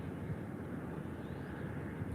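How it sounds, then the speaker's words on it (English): A Ryanair Boeing 737-800 taxis at Málaga airport, a faint distant steady jet engine whine and rumble blended with wind-like noise, continuous and without talk. "there's a Ryanair 737-800 taxiing to runway 13"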